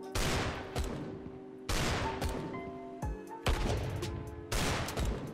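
Bursts of gunfire from the Roblox shooter Strucid, four or five rapid automatic volleys separated by short pauses, loud and close, with no talking.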